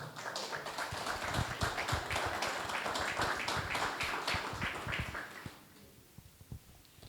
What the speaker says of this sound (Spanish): Creo que se merece un aplauso la compañera Isabel.